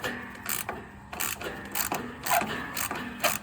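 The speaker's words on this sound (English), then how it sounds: "So let's put an 8 millimeter socket on our ratchet." A hand ratchet fitted with an 8 mm socket clicks on a Cub Cadet Ultima ZT1 mower battery terminal, several short bursts of close, crisp ratcheting in an uneven rhythm.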